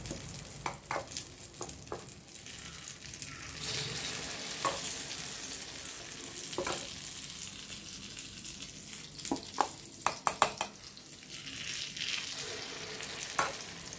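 Steady crackling sizzle of tapioca paniyaram batter frying in a paniyaram pan, with scattered louder pops and spatters throughout, no voices.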